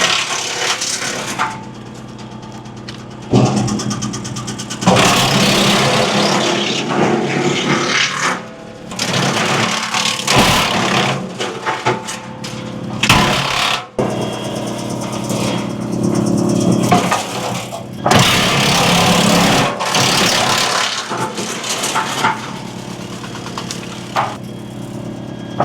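Tractor-driven wood chipper chewing up dead tree branches, loud crunching and splintering bursts over a constant engine drone, close and continuous with brief lulls between feeds.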